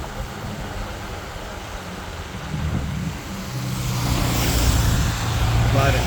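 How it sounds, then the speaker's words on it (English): Road traffic passes by, a broad rushing roar that builds and grows louder toward the end as vehicles approach, with a low rumble beneath. "A lot of traffic coming back this way."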